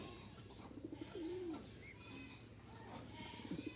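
Pigeons coo softly in a low, rolling rhythm, several throaty calls spread across the moment, with faint chirps and light background noise and no talking.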